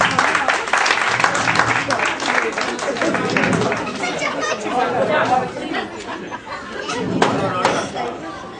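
Audience applause welcoming the judge at a humorous mock-courtroom gathering, steady clapping mixed with lively crowd chatter and voices throughout, easing slightly toward the end.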